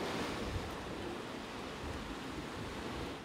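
Surf rolls in steadily at a beach in Guadeloupe, where swimming is banned over sewage contamination, a continuous broad wash of waves with some wind, moderately distant and without voices.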